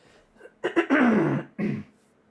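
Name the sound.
throat clearing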